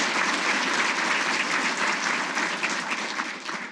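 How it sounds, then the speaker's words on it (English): A crowd at an annual awards ceremony gives a sustained round of applause for an honored guest, with thick, even clapping that eases slightly toward the end. "give this hero a round of applause"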